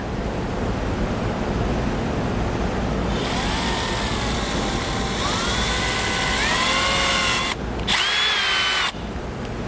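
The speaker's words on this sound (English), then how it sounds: "drill a pilot hole right in the center." A power drill whirs loudly and steadily, its pitch rising and falling as it bores a pilot hole for a trailer brake controller install, with brief pauses near the end.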